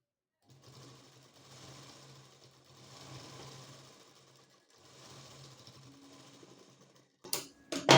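Sewing machine stitching a blouse, running in steady bursts with a pause in the middle and a clatter of handling at the end, close and fairly quiet.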